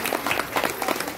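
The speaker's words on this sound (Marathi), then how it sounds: "जोरदार टाळ्या होते शिवराम अण्णांसाठी." Brief applause for Shivram Anna, a village elder, at a Women's Day event, with a scatter of claps of moderate loudness that lasts only about a second.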